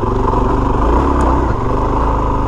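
A Suzuki DRZ400S dual sport motorcycle engine runs close by with a throaty, pulsing idle and a brief rev, loud and uneven over a couple of seconds.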